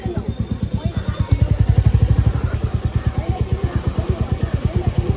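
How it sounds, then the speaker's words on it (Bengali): A motorcycle being pushed on a mountain road chugs nearby in a fast, regular thumping rhythm that swells briefly, then settles into a steady beat. "সবাই ঠেলছে বাইক, দেখো দাদাও বাইক ঠেলছে।"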